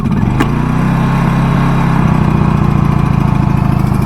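A portable generator engine starts on choke and settles into a loud, steady, close-up chugging run with a fast, even rhythm.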